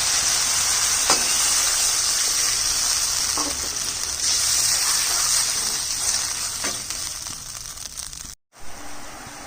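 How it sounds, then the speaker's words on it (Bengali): Water hits oil-separated fried spice masala in a pan for a fish curry, producing a loud, steady, close hiss of sizzling that sustains throughout and cuts out briefly near the end. "এই যে এখন জল দিই।"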